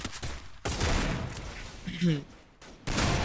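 Rapid gunfire from a desert pistol in a mobile shooting game match, a few loud close bursts of shots mixed with game effects, with excited commentary talking over it.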